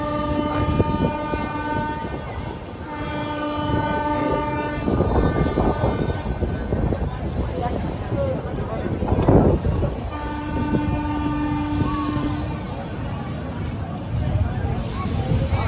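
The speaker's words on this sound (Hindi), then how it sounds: "दोनों गाड़ियों का यहाँ पे पैरेलल डिपार्चर हो गया है। धौली एक्सप्रेस और अपनी दुरंतो एक्सप्रेस पैरेलल डिपार्चर।" Dhauli Express and Duronto Express trains pull out side by side, with repeated horn blasts over a steady rumble and wheel clatter, loud and close, continuing throughout.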